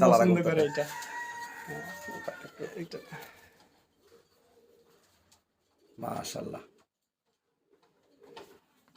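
Imported Teddy pigeons coo in a loft and birds call loudly at first, then quieter; a person talks in short bursts with silent gaps between.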